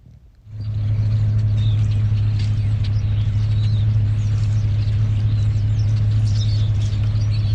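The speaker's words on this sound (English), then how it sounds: "you can just hear the chorus of birds singing" Many small birds chirp and sing in the distance, partly buried under the constant low drone of an idling engine nearby.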